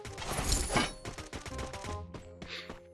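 Rapid bursts of gunfire from the Free Fire battle royale game, dense and loud in the first second, then spaced sharper shots with short gaps, no talking.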